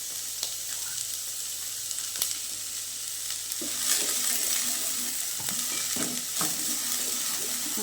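Food fries in a pan over a low flame, with a soft, continuous sizzle and occasional faint stirring scrapes, and no talking.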